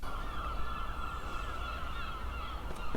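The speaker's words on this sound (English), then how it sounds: "I'm not going to miss these seagulls at all." Steady, harsh bird calls honking over a constant background din, with repeated squawks throughout and no speech.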